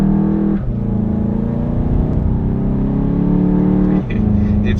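A Volkswagen Golf GTI MK7 engine pulls hard under acceleration, a loud, steady drone heard from inside the car with two brief dips where the pitch drops and climbs again, as at gear shifts.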